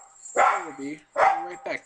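Pet dog barking indoors during a Minecraft play session: two or three loud, close barks with a wavering tone, heard alongside a voice talking.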